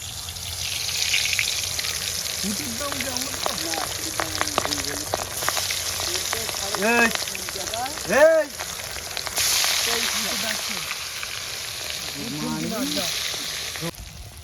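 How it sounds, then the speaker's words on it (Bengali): Fish frying in oil at an outdoor village cook-up crackles and sizzles loudly and steadily, while people talk over the cooking. "মাছ ভাজবো তাই গ্লাস তিনটে মাছ ছাড়ছি"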